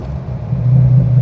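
A 1963-style Austin Healey Sebring replica kit car with a four-speed gearbox, its engine running through new exhaust pipes: a steady low rumble that swells and holds louder partway through, close by, with no talk.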